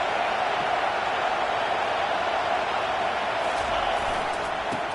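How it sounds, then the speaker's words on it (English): Steady roaring stadium crowd noise in the College Football 25 video game, a dense continuous wash of cheering that fills the background at high level without pause. "This crowd bringing the energy and noise early."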